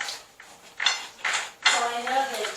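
A knife cuts into a cooked rack of lamb at a Christmas dinner, giving a few short scraping, clinking strokes against the plate and board, close by and fairly loud.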